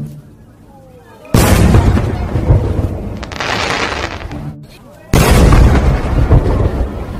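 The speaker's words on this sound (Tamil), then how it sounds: "அங்கே பாரு, அங்கே பாரு, வெடி போடுறாங்க," Firecrackers bursting outdoors during a Christmas skit, two loud booming blasts with long rumbling tails, the second arriving a few seconds after the first, over a faint background.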